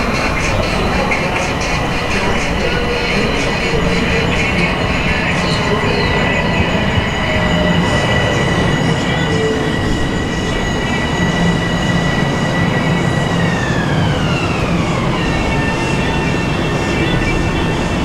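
A Long Island Rail Road train moves through Mineola station with a loud, continuous rumble and a high wheel squeal that bends downward as it passes.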